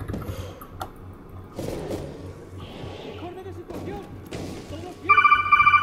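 A mobile phone rings in a bursting electronic pattern near the end, cutting over game noise of footsteps, thuds and gunfire from an Aliens: Colonial Marines session, with people talking throughout.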